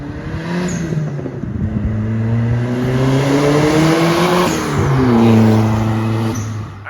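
A Dodge Neon SRT-4 drives down the road, its engine droning loud and close with rising and falling pitch as it accelerates and shifts through gears, steady throughout with no voices.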